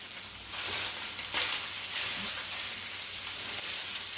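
Sausage sizzles steadily in a hot pan, a constant bright crackle with a few soft scraping knocks as the links are flipped, close and unbroken.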